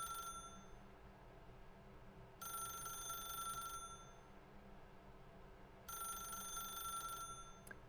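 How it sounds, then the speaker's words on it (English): A telephone in a video game rings in repeated electronic bursts with long silent gaps between them, faint and alone. "Do I really want to answer this phone right now?"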